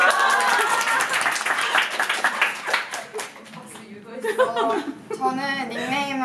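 A small group claps at a fan club meetup, a burst of quick hand claps with some laughter, fading after a few seconds into someone speaking up close.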